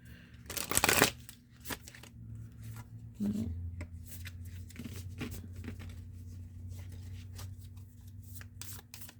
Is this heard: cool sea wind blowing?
no